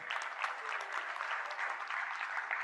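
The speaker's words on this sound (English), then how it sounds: "Big applause to Joshi sir, please." Audience applause at a pharmacy college conference, steady and even clapping from a crowd that keeps going without pause, heard fairly faintly and at a distance.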